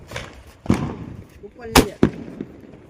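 Firecracker bombs set off at a wedding celebration give a few sharp, loud bangs at irregular intervals, each a sudden burst that cuts off quickly, with voices in the background.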